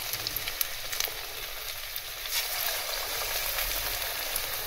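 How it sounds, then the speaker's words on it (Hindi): Potato pakora batter crackles and sizzles steadily in hot oil on a medium flame. A continuous bright frying hiss carries a few sharp pops on top. "ऑयल हमारा गर्म हो चुका है, अब हम इसमें आहिस्ता आहिस्ता पकौड़ों का मसाला डालेंगे।"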